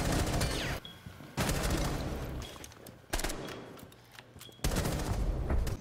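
Loud bursts of gunfire in a first-person shooter video game played on controller, coming in three or four dense volleys separated by short quieter gaps, with no talk over them.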